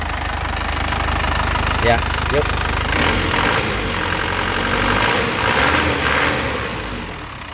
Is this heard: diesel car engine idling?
yes